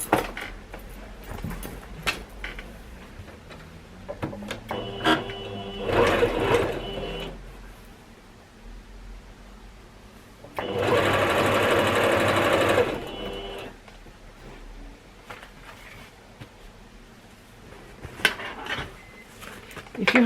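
Sewing machine stitching across a fabric bag in two bursts of steady whirring, the second longer, close and clear, with handling clatter and brief bits of talking between them.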